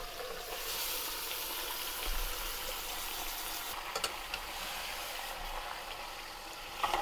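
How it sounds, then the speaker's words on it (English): Marinated meat stir frying in oil with browned onions for mutton biryani, a soft continuous sizzle with occasional stirring scrapes and bumps against the pan. "We're gonna stir fry this at least for 10 minutes."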